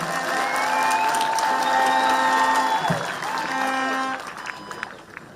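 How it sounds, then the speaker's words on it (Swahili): A crowd applauds His Excellency at a youth service pass-out ceremony in Machakos, a sustained clapping ovation with a few whoops, tapering off toward the end. "Tafadhali Your Excellency apigiwe makofi mazuri"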